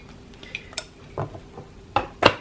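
A fork clinks and scrapes against a non-stick Dash 8-inch electric griddle while lifting a vegan vegetable quesadilla, giving a few sparse, close metallic scrapes and taps, with the two sharpest toward the end.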